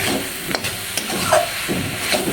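Spices and vegetables stir-fried in a pan for a Bengali home-cooked curry, a steady close sizzle broken by a few scraping stirs and light clinks of the spatula, with no talking.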